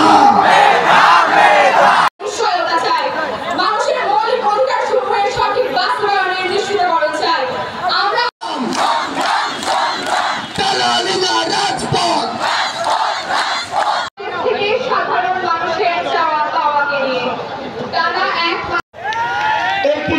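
A large crowd at a Bangladeshi student-led political rally chants a protest slogan together, loud, dense and sustained, with repeated phrases broken by short pauses.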